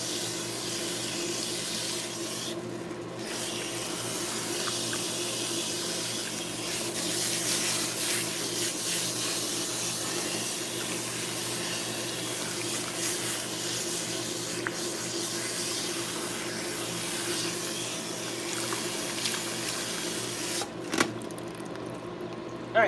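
Steady running water from a salon sink sprayer soaks a client's hair for nearly the whole stretch, a continuous close hiss with a brief dip near the start and a short bump toward the end.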